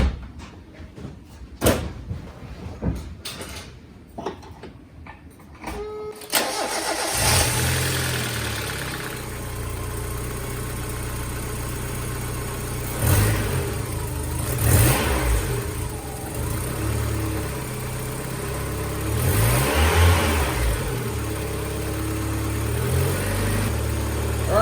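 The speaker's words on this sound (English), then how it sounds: "Let's go ahead and start our engine here, see if it runs better." A 1993 Mazda Miata, fresh from new spark plugs and wires, cranks over with a few clicks and clatters, then catches and settles into a steady idle with several rising revs, loud and close throughout.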